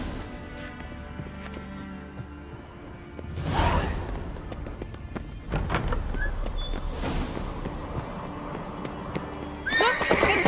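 Horses in the video game The Witcher 3 whinny and clop over scuffling game sounds and music, with hoofbeats rising in bursts, a sharp neigh near the middle and another loud whinny at the end.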